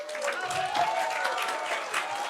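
Audience applause fills a business testimonial event in Colombia, steady and dense from many hands clapping throughout, with faint voices underneath.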